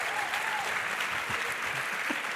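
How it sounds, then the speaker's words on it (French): A live audience at a science show in La Rochelle applauds warmly, a continuous moderate wash of many hands clapping, with faint murmurs and a brief voice low beneath it. "On l'applaudit"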